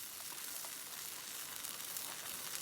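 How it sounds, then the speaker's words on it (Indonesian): Spice paste frying in hot oil inside a camping nesting pot by a river, giving a steady, close, broadband sizzle with no pauses and no voices. "Saya panaskan minyak di nesting. Kemudian saya menggoreng bumbu yang tadi."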